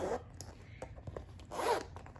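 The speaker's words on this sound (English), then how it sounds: "you've got a really lovely chunky zip, which has got the Aspinal logo kind of cut out on the zip" A chunky, very smooth zip with a cut-out logo pull on an Aspinal of London bag is drawn open in two short zipping strokes, close up and fairly quiet.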